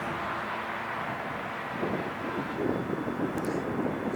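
A Delta Boeing 757 departs Long Beach Airport. A steady, broad jet roar carries from a distance, mixed with gusts of wind noise and growing slightly rougher toward the end.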